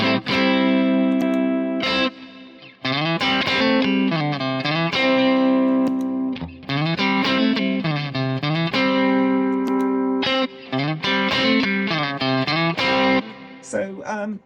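Electric guitar driven through a Rift Amplification EL34 overdrive pedal with the gain turned up, playing crunchy distorted riffs and bent notes with brief pauses, loud and close.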